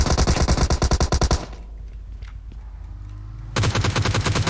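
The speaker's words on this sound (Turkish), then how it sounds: "Silah sesi geldi." Rapid bursts of automatic video game gunfire in a squad battle royale match, loud and close, break off into a quieter pause before another rattling burst starts up.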